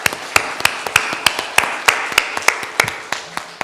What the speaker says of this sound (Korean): 감사와 또한 기쁨의 박수를 한번 하겠습니다.